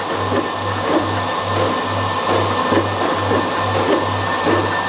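A TSR DTF printer runs a print job with a loud steady motor whir and a regular pulsing low hum, each pulse about half a second, under faint clicking mechanical movement.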